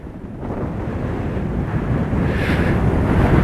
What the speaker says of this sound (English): let's get back out of the wind a minute